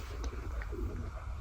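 A pigeon near a cage gives soft, low cooing, faint under a steady rumbling background across a short moment.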